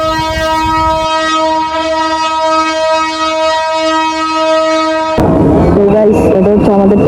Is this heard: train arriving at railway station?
yes